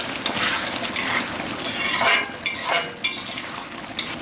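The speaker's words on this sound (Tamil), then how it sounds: "இப்போ நல்லா கலக்கி எடுத்துக்கலாம்." Spicy chicken masala gravy is stirred in a pan over a slow flame, with loud, continuous scraping and clinking of a spoon against the metal and a light bubbling sizzle underneath.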